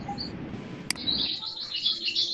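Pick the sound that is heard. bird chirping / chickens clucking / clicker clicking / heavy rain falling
bird chirping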